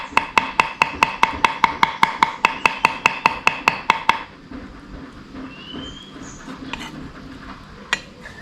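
A knife chops deboned catfish for larb in rapid, even strokes, about four per second for four seconds, then stops, leaving a quiet room with a few faint clinks.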